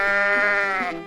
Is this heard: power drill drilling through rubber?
no